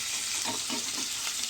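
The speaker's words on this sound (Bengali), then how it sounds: "আর এখানে আলু ভাজা বসিয়েছি।" Potatoes fry in oil in a pan, a continuous close hiss and sizzle with faint soft stirring pulses and no voices.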